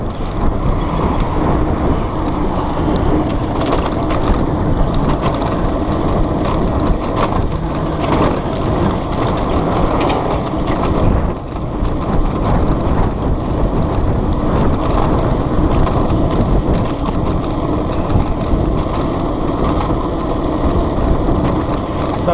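Emmo Urban S electric scooter riding along after a loose fairing bolt was tightened, giving a steady, loud broadband rumble with rattly vibration and wind buffeting throughout, no voices.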